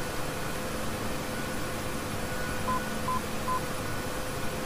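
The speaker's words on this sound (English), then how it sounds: "And you hear we're getting Morse code again." Three short, evenly spaced Morse code tones from an ILS navigation signal in a UH-1H Huey helicopter cockpit in DCS World, faint beeps over a steady rotor and engine hiss.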